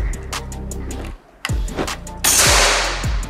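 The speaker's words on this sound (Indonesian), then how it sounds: "Lanjut lagi tembakan ke-16." Two sharp, close shots from a Gousuto Oria V2 air rifle, each a crisp crack that ends quickly, with a short gap between them and some handling noise afterward.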